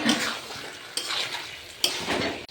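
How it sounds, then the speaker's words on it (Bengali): Chicken kosha with fried potatoes stirred in a pan, a spoon scraping and clinking against the metal in steady strokes with a light sizzle underneath, close and fairly quiet, no talking. "এটাকে এখন আমি নাড়িয়ে নেবো ভালো করে।"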